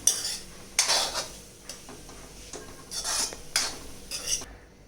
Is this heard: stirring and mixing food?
yes